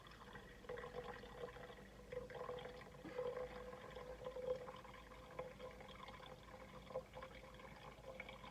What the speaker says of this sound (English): we're just trying to pour as much of that clear liquid off the top without disturbing.